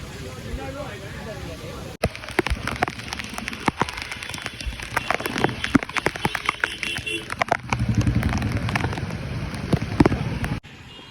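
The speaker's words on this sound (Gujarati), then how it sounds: "વરસાદ પાછો ચાલુ થઈ ગયો" The first monsoon rain at Bhavnath, Junagadh patters and crackles on a surface with scattered sharper drops, growing heavier toward the end, while people talk now and then.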